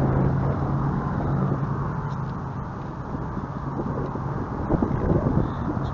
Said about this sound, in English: really starting to get windy.